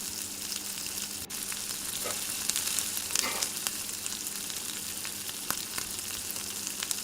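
Chicken pakoras fry in hot oil over a medium gas flame, giving a steady dense sizzle with occasional faint taps and stirring sounds.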